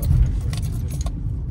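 Mercedes AMG car keys jangle briefly in a hand, a quick close metallic rattle over low rumbling vehicle background.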